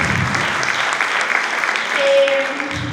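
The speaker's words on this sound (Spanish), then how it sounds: "la aplaudimos" Audience applause at a presentation of a legal aid program for victims, a steady dense clapping from the crowd that holds for a few seconds, with a faint voice and a brief tone near the end.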